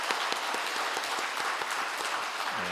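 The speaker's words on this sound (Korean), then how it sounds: "우리 축하의 박수 우리 같이 하도록" A church congregation at a Sunday service claps in celebration for a couple being honored, a steady patter of many hands at moderate distance, with a brief low hum or tone at the very end.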